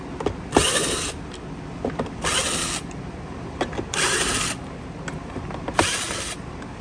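A powered screwdriver or drill whirs in four evenly spaced bursts with small clicks between, backing screws out of a Bissell 1739 Powerforce bagged vacuum cleaner, heard up close.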